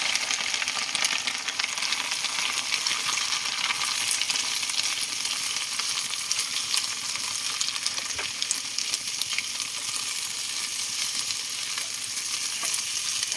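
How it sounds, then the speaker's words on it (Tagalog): Shrimp paste (alamang) with pork fat being stirred in hot oil, a continuous moderate sizzle and crackle with spatula scrapes, no voices. "Haluin hanggat mahalo para po balanse ang pagkalat ng mantika."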